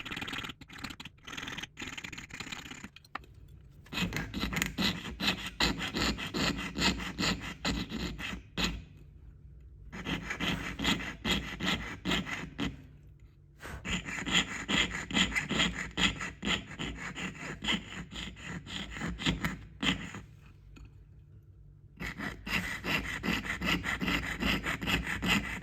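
Hand saw cutting through a 1985 South African coin, long runs of rapid rasping back-and-forth strokes close by, separated by short pauses.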